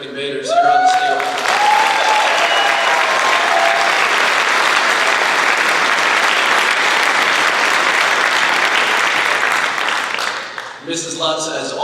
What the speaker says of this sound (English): how about another round of applause for our terrific invaders here on the stage?